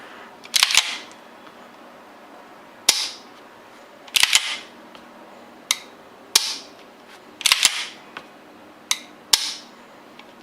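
A 1911 pistol fitted with an RMR sight being test fired at a range: sharp single shots and quick pairs, about a dozen reports spaced irregularly, loud and close with no talk.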